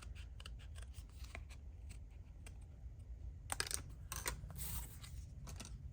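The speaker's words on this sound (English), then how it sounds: "So now I'm just gonna cut along there," Scissors cut along a line through paper or card during a faux shattered-glass craft project, producing a run of crisp close-up snips and clicks that grows denser toward the end.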